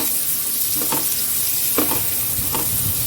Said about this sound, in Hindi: अब प्याज को भूनेंगे।